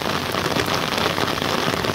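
Steady rain falls in the countryside around orange orchards in Berkane province, a dense, even patter of drops hitting surfaces close by with no voices.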